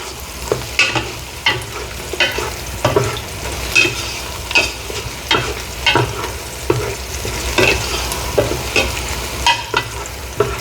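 Onions fry in a pan for crab curry, a steady sizzle punctuated by regular scraping strokes of a spatula stirring them, close and loud with no talking.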